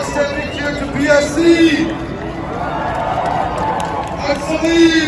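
An outdoor protest crowd in Leeds keeps up a sustained cheer, a thick, steady roar of many voices with individual shouts and whistles poking through, loud and close.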